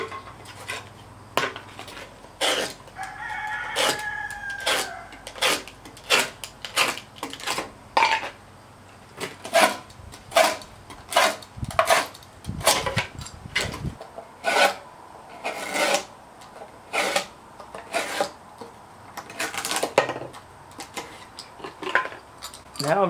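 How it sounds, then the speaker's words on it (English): A razor knife scores asphalt shingles along the edge during an outdoor kitchen build, making repeated sharp rasping strokes in an uneven rhythm, close and fairly loud, without talk. "to cut my shingles, I'm just gonna score them a couple of times right on the edge with a razor knife"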